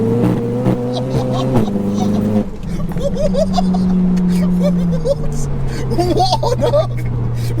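A 900 bhp front-wheel-drive Seat Leon Cupra accelerating hard, engine note climbing through gears with a shift around midway, loud and close from inside the car while occupants talk excitedly over it.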